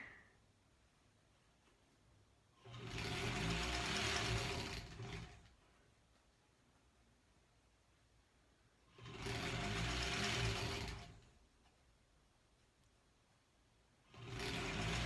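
A sewing machine stitches a granny squares quilt block in three separate loud bursts of rapid mechanical whirring, each lasting about two seconds, with quiet pauses between them.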